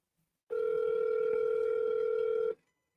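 A single steady telephone ring tone sounds for about two seconds over the line and then stops before the call goes to voicemail, clear and alone.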